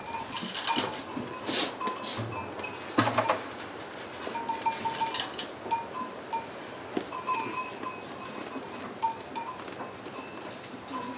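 Goats bleating intermittently in a noisy barn during hand milking on Rurutu island, with clanking bells and general farm bustle throughout, no talking.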